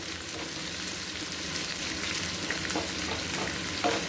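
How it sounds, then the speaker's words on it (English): Onions frying over a high flame in a pan for biryani, giving a steady, close broadband sizzle throughout with a few soft stirring scrapes near the end and no talking. "now we have to fry the onions till they are golden brown or a bit dark colored"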